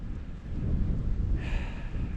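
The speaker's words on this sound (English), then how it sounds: "It's windy," Wind gusting on a winter mountain trail in the Adirondacks, a steady rough roar buffeting the microphone close up, with a brighter hiss rising briefly partway through.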